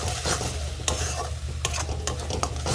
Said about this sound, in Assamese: এতিয়া মই এইখিনি ভালকৈ ভাজি ল'ম।